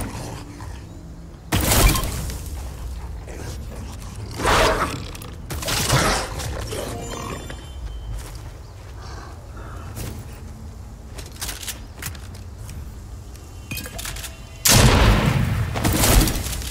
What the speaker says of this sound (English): I shot it with a firework launcher.